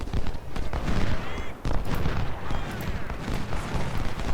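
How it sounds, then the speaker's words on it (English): Artillery and gunfire thunder through a Civil War battle in the strategy game Ultimate General: Civil War, a dense, continuous barrage of overlapping booms and cracks, loud and close, with no pause throughout. "He is setting up his artillery again."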